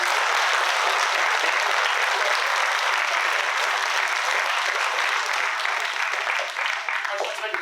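An audience applauds a speaker being introduced at a public speaking event, with steady, full clapping filling the room for about seven seconds and easing slightly at the end.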